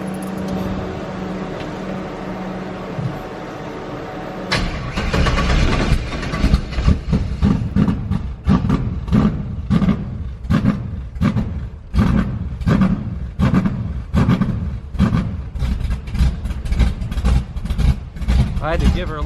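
A 1968 Camaro engine with a Holley EFI Sniper fuel injection system cranks and catches, then settles into a loud, lumpy, rhythmic idle with a deep pulsing throb that keeps going.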